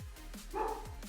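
A pet dog indoors gives a single short bark or yip in the background during a livestream, brief and moderately loud over a quiet room.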